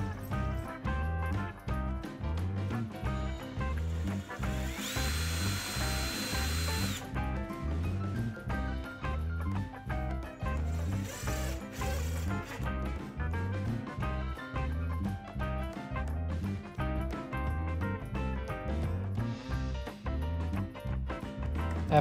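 A power drill drives screws into a wooden planter cover, with a steady, close run of rapid pulsing whirs that pause briefly between screws.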